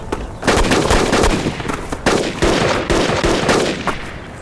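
Close, loud bursts of gunfire, several volleys of rapid shots cracking in irregular succession with short gaps between them.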